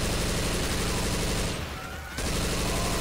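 Continuous loud automatic gunfire with incendiary ammo in Left 4 Dead 2, a dense rapid fusillade that briefly dips before resuming, without talk.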